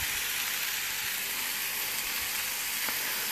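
Pork sizzles and fries in a pan on a home stove, a steady, close, bright hiss of fat crackling continuously with a few soft clinks.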